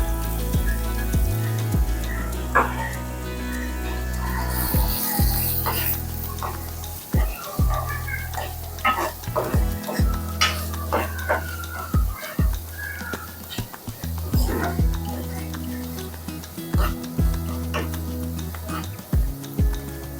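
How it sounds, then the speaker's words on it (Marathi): Sliced onion and a few cloves frying in oil in a pan, a steady crackling sizzle with occasional spatula scrapes, under a voice talking throughout. "कांदा थोडासा गुलाबी सर होईल इथपर्यंत आपण परतणार आहोत कांदा"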